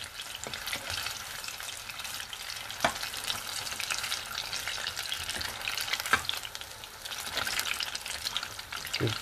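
Pakoras and bhajis shallow-frying in oil in a pan, a constant hissing sizzle with occasional sharp pops and scrapes as they are moved around.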